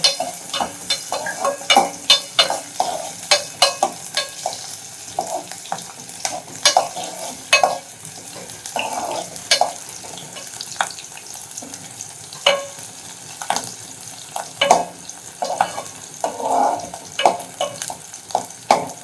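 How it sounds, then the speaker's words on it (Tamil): Garlic and green chilies fry in oil for a small onion kara kulambu while a spoon stirs them. A continuous sizzle is cut by frequent close scrapes and knocks against the pan, and no voices are heard. "இப்போ இந்த பூண்டை போடும்"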